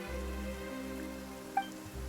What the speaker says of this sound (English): The rain became heavier, light rain soon growing to a downpour.